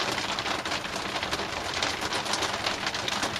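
Steady rain falling outside, a dense, even hiss of drops that holds at a constant loudness from start to finish, with no voices.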